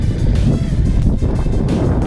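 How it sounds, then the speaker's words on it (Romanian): Strong, steady wind roars and buffets close by while riding a Cannondale Trail SL2 bicycle, a dense low rumble of gusts with brief dips and surges throughout. "Vântul mă împinge și nu mă lasă să stau drept."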